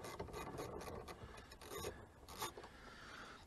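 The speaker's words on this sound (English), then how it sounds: "So there's a 10mm socket securing the negative clamp" Close-up ratcheting and rasping clicks of a 10mm socket ratchet loosening the negative battery clamp on a BMW F3x, in irregular bursts with no talk.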